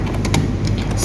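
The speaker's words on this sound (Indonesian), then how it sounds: "Lalu kita ketik network" A quick run of keystrokes clicks on a computer keyboard while network routing settings are entered. The taps are close and crisp, with several keys pressed in rapid succession and no talking.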